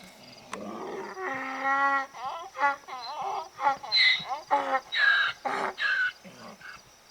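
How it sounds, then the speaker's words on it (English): Coyotes howl and yip in a wavering chorus in Death Valley at night, with high rising and falling cries piling over one another, and a donkey's lower braying joining in early on. "The coyotes are going. And there's a donkey in the background."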